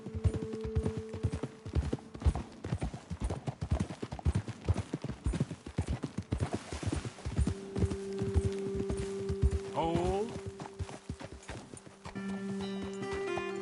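Rhythmic hoofbeats clopping steadily over ground in the video game Red Dead Redemption 2, with a horse whinnying briefly midway and a voice speaking once.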